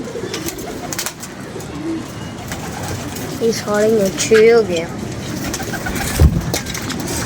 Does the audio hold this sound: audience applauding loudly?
no